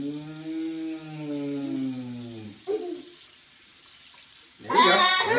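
Water runs from a bathroom tap while a face is rinsed after shaving. A drawn-out whining, squeaky tone comes first, then a short splash, and a louder burst of flowing water arrives at the end.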